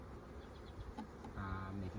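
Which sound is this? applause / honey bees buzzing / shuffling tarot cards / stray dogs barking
honey bees buzzing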